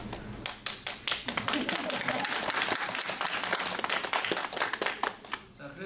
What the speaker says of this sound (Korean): 박수도 좀 치고 그래야지 설교할 맛이 나는데